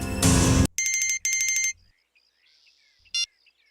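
A mobile phone ringtone plays in short loud electronic bursts: a dense opening chime, then two repeated tonal pulses, followed by quieter electronic blips and one final short beep, heard close and clear without talk.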